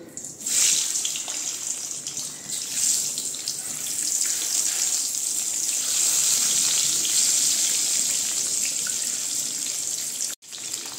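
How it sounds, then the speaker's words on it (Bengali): Eggs sizzle in hot mustard oil in a wok, giving a steady, loud hiss of frying that runs the whole time with no speech. "কড়াইতে আমি সরষের তেল দিয়ে দিয়েছি, তেলটা গরম হয়ে গিয়েছে, এর মধ্যে আমি দিয়ে দিচ্ছি এই যে ডিমগুলো"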